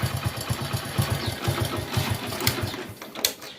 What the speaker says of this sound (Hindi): देख लीजिए मैं आपके सामने किक से स्टार्ट किया है